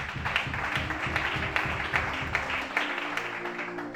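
A congregation applauds during a church worship service in Gabon, with steady, dense clapping and sharp individual claps popping through. Rhythmic music plays underneath, and the low accompaniment thins out near the end.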